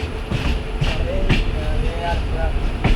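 A train pulling into Haripad station on a Thiruvananthapuram to Ernakulam journey rumbles steadily with faint clatter and a few squeaks, heard from inside the carriage, with people talking nearby.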